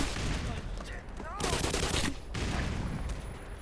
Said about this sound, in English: We can use some machine gun grenades here.